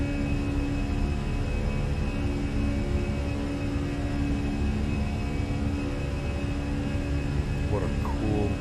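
Fenix Airbus airliner engines at climb thrust in Microsoft Flight Simulator give a steady, loud jet roar and hum, unbroken throughout, with a brief voice near the end.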